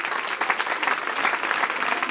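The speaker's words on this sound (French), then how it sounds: "Applaudissements pour l'équipe de Philippe Dupont et Vincent Leguet." Steady applause from the crowd at a pink-themed outdoor charity event in Beaune with about 500 women taking part, a dense wash of many hands clapping at close range that holds evenly for the whole span with no talk.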